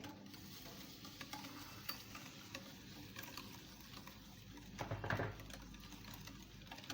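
Eggs and sugar are whisked together for semolina halwa, a faint rapid scraping and tapping against a bowl, with a brief louder burst near the end.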